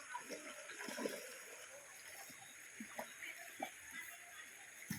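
A small child plays and splashes in a stream beside a homestay, producing irregular splashes and trickling over a continuous flowing-water background, with faint voices in the distance.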